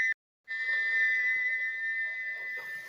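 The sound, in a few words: steam locomotive whistle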